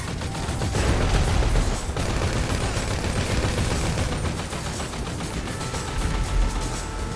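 Sustained heavy automatic gunfire in GTA V Online during a casino heist mission, a dense, steady barrage of rapid shots that stays loud and close throughout with no pauses.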